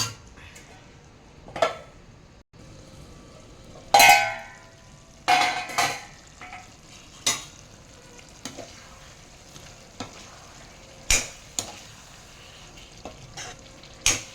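Mutton kheema being stirred in a pan over a low flame: a spoon scrapes and clatters against the metal in irregular strokes over a steady, soft sizzle of frying meat.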